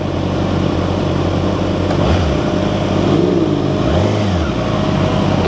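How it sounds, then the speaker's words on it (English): An R1 motorcycle with a Graves aftermarket exhaust revs loudly and close, throaty exhaust rising and falling in two or three pulls, no voices. "Got that Graves exhaust."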